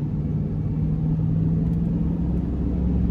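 A 2001 Chevrolet Silverado 1500 LS extended cab with a 5.3 V8 and four-speed automatic pulls hard under full throttle. Its engine gives a steady, loud low drone heard from inside the cab, with no talking.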